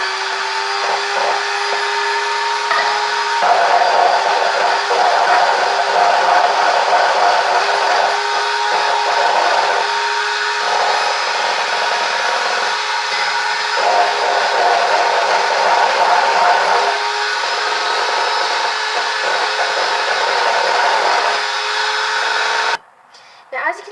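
An electric mixer whirs continuously while red velvet cupcake batter and egg mixture are beaten, a steady loud motor drone with slight rises and dips that stops near the end.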